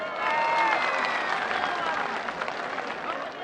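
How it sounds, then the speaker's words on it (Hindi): Crowd at a PTI political rally in Mianwali clapping and cheering, a dense broad wash of applause that is fairly loud at first and eases slightly, with a crowd murmur mixed in. "भरपूर तालियां इनके लिए,"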